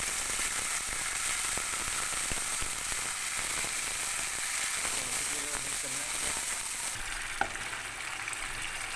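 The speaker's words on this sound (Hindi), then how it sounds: "अब इसके अंदर में जो यखनी थी हमारी, उसको मैं ऐड करूँगा" Mutton stock hitting fried ginger-garlic paste in a karahi gives a loud, steady sizzle and hiss up close, with stirring scrapes and a brief clink near the end.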